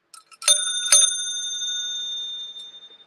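A hotel concierge bellboy desk bell struck twice in quick succession, each bright metallic ding ringing out and fading slowly, with a few soft taps before the first strike and no talk.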